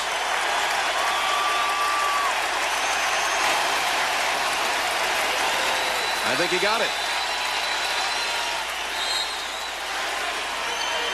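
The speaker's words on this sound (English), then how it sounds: "Reggie's asking the crowd for maybe just a little bit more noise" A loud arena crowd roars and cheers at an NBA playoff basketball game, a continuous wall of noise with a rising swell, while a voice speaks over it.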